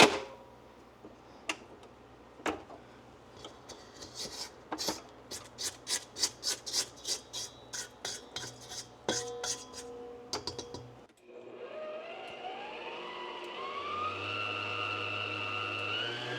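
Christmas cookie dough being worked in a stand mixer: a run of rhythmic scraping strokes against the bowl, then the motor whirring up into a steady, rising mechanical hum, no talk.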